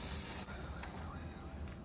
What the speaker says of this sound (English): Go and spray.